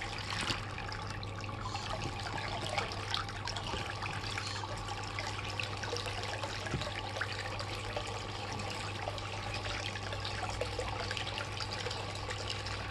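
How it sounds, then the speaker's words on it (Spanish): Water trickles and splashes continuously at a steady level from a solar pool heater outlet, with a low constant hum underneath. "se nos ha visto afectado el caudal de agua"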